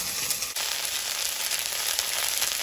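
Chopped onion and cumin powder sizzle in hot oil, a continuous close crackling fry with small pops scattered throughout and no voices.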